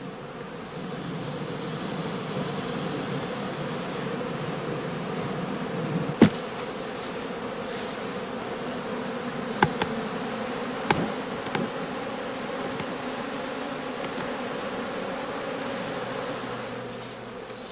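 Honeybees hum in a dense, continuous drone around straw skeps at a heathland heather apiary, with a few sharp knocks and taps standing out over the buzzing.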